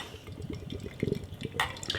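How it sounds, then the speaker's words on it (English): Monkish Oculars, a 10.3% ABV triple IPA, poured from a bottle into a glass, with a short burst of gurgling liquid splashing and fizzing at close range. "let's get this beer out into a glass and see what we get"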